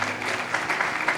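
Audience at a sermon applauding, a dense steady patter of clapping hands that holds for the whole brief moment, moderately loud with no speech over it.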